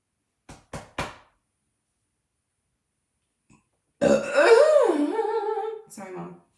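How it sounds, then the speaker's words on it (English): A few soft knocks are followed by a pause, then one long, loud, close burp that wavers in pitch and ends in a shorter second belch. "Sorry, I'm not going to stop burping."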